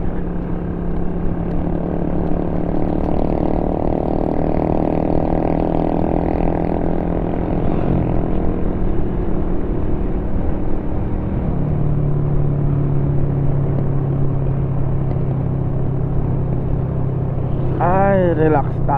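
Honda 155 motorcycle engine drones steadily while riding, a continuous close rumble with a brief pitch dip and a short rising whine near the end, a voice talking over it.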